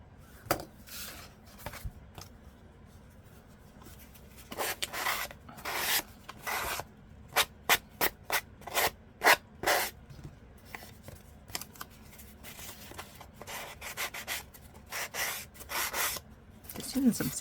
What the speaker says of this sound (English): Just using some sandpaper to take off that edge.